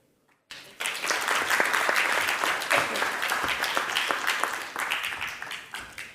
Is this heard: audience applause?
yes